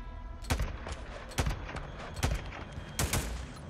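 Four sharp gunshots fired at a distant enemy in the video game Days Gone, evenly spaced about a second apart, each a loud broadband crack with a short tail over a steady low ambient bed.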